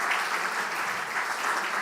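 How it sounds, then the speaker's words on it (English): A short burst of steady applause from a conference audience for a panel discussion on music copyright and creativity, even and continuous, heard at a moderate distance without talk over it. "Round of applause to all the panelists around."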